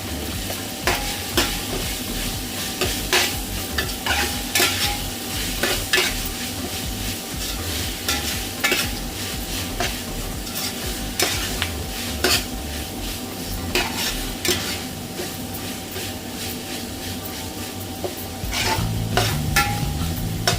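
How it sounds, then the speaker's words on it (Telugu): Ginger and other ingredients frying in a pan for a leafy-greens pulao, a loud continuous sizzle with regular scraping and clinking stirring strokes of a metal spoon throughout. "బాగా వేపుకోవాలండి ఇవన్నీ కూడా ఇప్పుడు కొంచెం వేగింది కదండి అల్లం"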